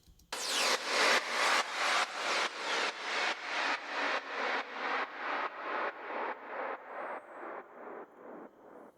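A wide, noisy synthesized dubstep tone in Logic Pro X, using modulation delay and Dream Verb reverb, pulses in a steady rhythm of repeated bursts that gradually fade, each swelling and trailing into reverb.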